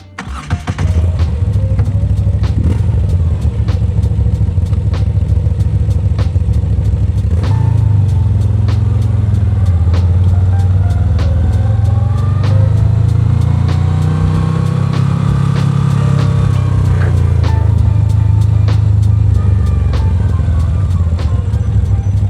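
A Moto Guzzi V7 motorcycle engine runs loud and steady up close, its low throbbing note swelling and settling through a few revs with no talking.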